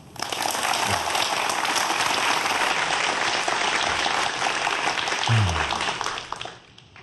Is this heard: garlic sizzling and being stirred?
no